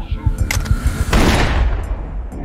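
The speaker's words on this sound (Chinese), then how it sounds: "突然一声枪响传来" A single sharp gunshot bursts out in an action drama, a loud close crack that rings out and decays with an echoing tail amid other scuffling noises.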